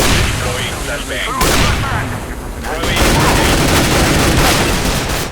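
Gunfire in a competitive CS:GO match: dense, sustained bursts of rifle fire and sharp cracks, loud and continuous, with a commentator talking over the action.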